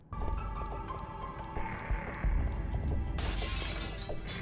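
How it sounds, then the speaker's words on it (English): Objects shatter in the video game Second Sight, with glassy crashes and tinkling fragments layered over a hum, followed by a louder bright burst of breaking debris. "everything I touch, it shatters into tiny pieces"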